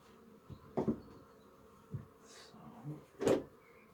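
A low hum of honeybees buzzing around an open hive, with a few louder wooden knocks and scrapes of hive frames being handled nearby.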